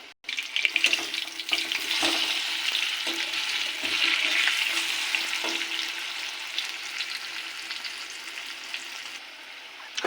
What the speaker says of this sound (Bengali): ভাজা হচ্ছে এবার আমি উল্টাবো